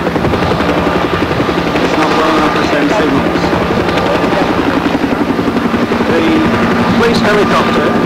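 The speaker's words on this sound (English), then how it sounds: "The helicopter now hovering over the police boat, passing on messages from the yacht" A helicopter hovers over a police boat near a yacht at sea, its dense, steady rotor and engine roar filling the scene without a break, loud and close throughout.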